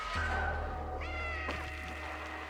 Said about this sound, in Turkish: Bizim kedi geldi.